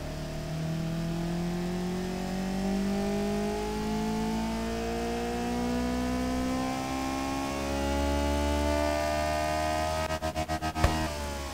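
A simulated car engine is revved up on test in the Automation car-building game, rising and falling through several long, sweeping climbs in pitch, then ending with a few rapid clicking pulses and a sharp knock.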